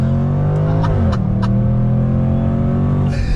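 A 2020 Jaguar F-Pace SVR performance SUV accelerates hard on throttle, its engine note climbing loud and close through an upshift, with brief crackles and a rising roar.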